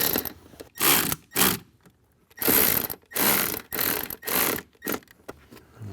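A hand tool ratchets in bursts of clicking as speaker bolts are tightened inside a 2021-or-later Ford Bronco, several close, fairly loud runs separated by short pauses.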